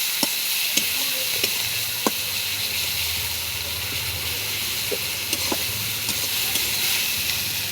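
Sizzling hiss of spice masala frying in oil in a pan, a steady bright crackle with soft stirring clicks and scrapes throughout, no voices.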